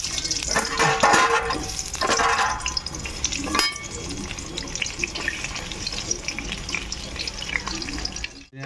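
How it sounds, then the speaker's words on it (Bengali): Cut potatoes coated in salt and turmeric fry in a wok, giving a steady, close hiss with a few louder stirring scrapes early on, then fading near the end. "আমাদের আলু ভাজা শুরু হলো"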